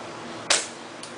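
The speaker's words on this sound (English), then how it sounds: "I will try to shoot center, perfectly centered on that box." A single sharp rifle shot is fired at a box target while zeroing a scope, a sudden crack that decays quickly, followed by a faint distant echo or impact.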